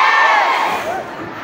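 A live audience of about 300 at a children's book launch and reading at the SMX Convention Center cheers and shouts, loud, close and continuous, the crowd noise filling the room.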